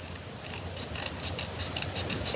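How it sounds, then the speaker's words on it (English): Scissors snip steadily through card stock at a craft table, a close, continuous crisp cutting rasp with rhythmic blade closures, no speech. "what we're gonna do is use our scissors here"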